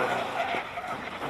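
A classic car at the Simola Hillclimb skids under oversteer, tires squealing over a loud, steady engine roar that fills the whole short stretch.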